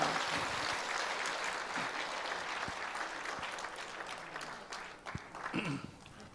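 Audience applause welcoming a pastor to the stage at a large Christian rally in Daejeon, a dense, steady clapping crowd that fades slightly toward the end, with a few scattered voices and whoops.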